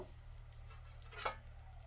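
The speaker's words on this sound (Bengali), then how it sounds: "চামচ দিয়ে ভালো করে নেড়ে" A spoon stirs in a bowl of food, one short clink against the side standing out over a quiet kitchen background.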